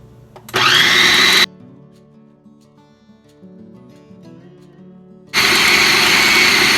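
Electric mixer on low speed combining thick, lumpy keto bread batter with egg whites, two loud steady whirring bursts of about a second each, separated by a quiet stretch with faint clinks.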